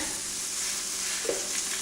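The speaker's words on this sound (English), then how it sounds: "That's sizzling" Italian sausage sizzles and crackles in a hot pan, a dense steady fizz with a small pop near the end, close and fairly loud, no voices.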